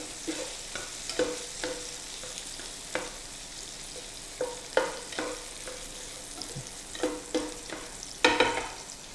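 Garlic frying in butter in a pan for a grilled cheese sandwich gives a steady soft sizzle, with repeated sharp scraping stir strokes scattered across it at close range.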